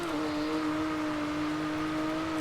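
A Nissan Z Nismo engine in a Forza racing game holds a steady, even drone with a sustained tone for the whole span, with no talking.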